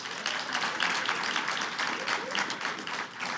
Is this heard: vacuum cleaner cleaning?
no